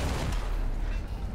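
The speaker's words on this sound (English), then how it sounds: "Truck explosion." A truck blows up in the video game Dead Island 2, a dense, rumbling blast with heavy low-end roar that fills the whole moment and decays slowly, loud and close.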